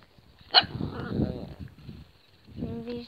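A dog on a leash gives one sharp, loud bark early on, followed by softer rustling and low murmuring sounds, with a brief tonal whine or voice near the end.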